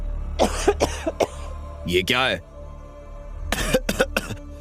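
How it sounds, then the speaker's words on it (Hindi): Several harsh coughs in quick bursts, then a strained, voiced throat sound, with someone speaking briefly near the end; close and fairly loud. "धुएं की वजह से सभी गार्ड्स पहले तो खांसने लगे।"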